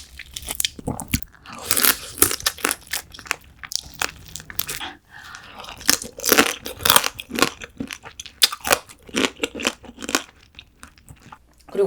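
Crunchy biting and wet chewing of soy-marinated raw crab (ganjang gejang), close and loud, with irregular crackling bursts and brief pauses between bites.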